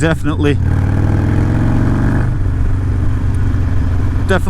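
Harley-style motorcycle engine remapped with a Screamin Eagle race tuner pulls hard through third gear at about 35 mph, a loud, steady rising drone close up with a brief gear change partway; a voice speaks briefly at the start and end.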